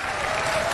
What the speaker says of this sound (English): And they applaud this pineapple head.